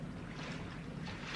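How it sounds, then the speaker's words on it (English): Distant diesel engines rumble as a low, steady murmur mixed with wind and sea noise, forming a radio drama effect with no voices over it. "Hey, did you hear that? Sounded like engines."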